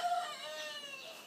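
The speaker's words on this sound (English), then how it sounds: "There's a rooster." A rooster crows outside near Güemes in Cantabria, Spain, along the Camino de Santiago. A single drawn-out call, moderately loud and slightly distant, with no talking.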